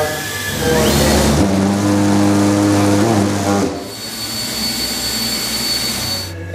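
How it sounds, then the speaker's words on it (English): A power tool cutting a circle out of a board for a homemade hovercraft, a loud close whining drone with a shifting pitch that steps down partway through, then continues at a lower, rougher level. "Right now we're cutting a circle out for this."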